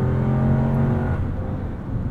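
A 2022 Lexus GX 460 Black Line Edition rolls along with a steady cabin drone of engine and road roar, plus tire noise that hums continuously throughout.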